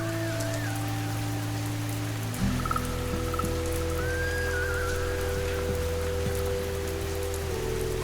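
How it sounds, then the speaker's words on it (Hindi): Steady heavy rain pours down, a dense wash of drops with a low hum and faint whistling tones running underneath. "बाहर तो कयामत की बारिश है"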